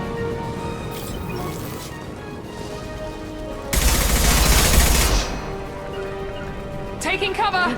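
Gunfire in a Mass Effect 2 firefight, with rapid bursts crackling under game sounds and a loud dense volley in the middle of the clip.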